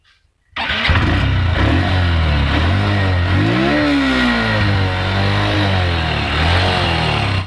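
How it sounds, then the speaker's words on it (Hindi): A Honda Livo motorcycle modified to sound like a Bullet cranks and fires up, then runs with a loud, close, throaty idle and a couple of rising revs, steady throughout with no speech. "तो गाइस अब जो है हम गाड़ी को जो है स्टार्ट करने वाले हैं, ठीक है। तो गाड़ी का जो है अब साउंड सुनना आप"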